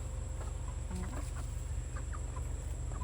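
Hens clucking in short, scattered calls over a steady low farmyard hum on a gamefowl farm, several birds close by with no talking.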